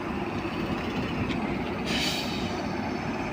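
A Farakka Express train pulls out of the station on the Balurghat–Bathinda inaugural run, a close, steady rolling rumble with a brighter hiss swelling briefly midway, no voices.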